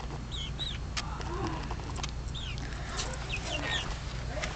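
Ten-week-old chickens in a backyard run, clucking and giving soft chirping calls continuously, close by over a steady low background hum.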